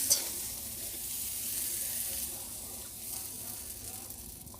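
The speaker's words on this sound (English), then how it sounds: "We have to melt butter and do it like that." Butter melts in a thin pancake pan with a quiet, steady sizzle and a faint crackle that holds throughout, close and alone with no talking.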